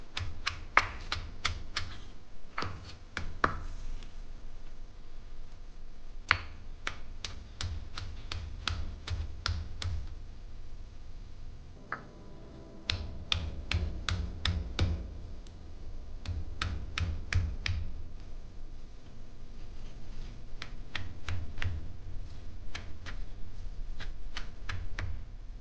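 Shallots crushed over dried red chillies, heard as repeated sharp pounding taps in quick bursts with short pauses, close and fairly loud, with no talking.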